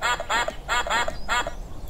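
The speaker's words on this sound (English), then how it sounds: "Who can make a quacking noise?" Ducks quacking in a quick series of five or six nasal calls grouped in pairs, loud and close with no talk over them.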